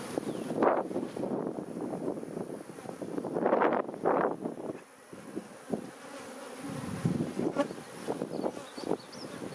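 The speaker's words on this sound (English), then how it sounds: "sounds like a bee." Honey bees buzz around an open hive, a dense droning swarm that swells and fades in waves with some wind rumble against the microphone and no voices.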